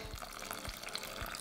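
Boiling water poured into a chocolate and butter cake mixture, a steady close trickling and splashing with faint low thumps, no talk.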